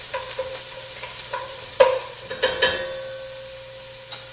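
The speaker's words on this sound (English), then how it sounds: "I'm starting out with just browning my" Chopped onion browning in a pan for a veggie soup, giving a low, quiet sizzle with a few sharp clinks and scrapes from stirring.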